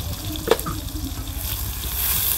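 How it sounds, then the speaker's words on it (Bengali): Cauliflower and potatoes frying in oil in a pan give a steady, soft sizzle close by, with a faint clink near the start and no talking. "এই যে ফুলকপি দিয়ে সেই আলু দিয়ে ভাজি করতেছি"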